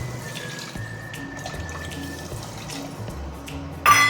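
Water is poured into a pot of rice for prawn biryani, a soft steady trickle that ends in a brief louder splash.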